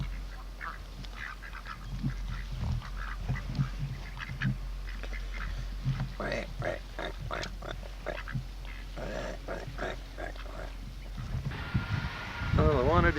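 Ducks on the water in the San Juan Islands, quacking repeatedly in close, uneven bursts over a low background rumble, with a voice speaking near the end.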